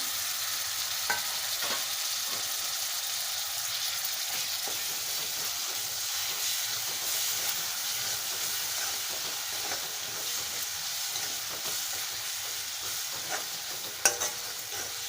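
Tomatoes frying in a pan with Malvani masala for a wild-bean village vegetable dish, giving a steady, continuous sizzle with soft stirring scrapes and a small clatter near the end, close and fairly quiet.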